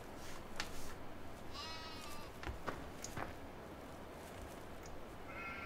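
Sheep bleating in the farming video game Farming Simulator 2015, several short distinct bleats over a steady grainy ambient bed, fairly near and moderately loud, with quieter gaps between calls.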